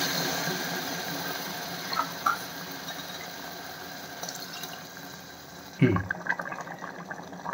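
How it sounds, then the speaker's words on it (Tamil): Water being poured into a pan of sautéed mushrooms for mushroom biryani, a soft running pour under faint kitchen ambience, with a brief splash and clatter near the end. "1 கப்புக்கு 1½ கப் வாட்டர் ஆட் பண்ணுங்க"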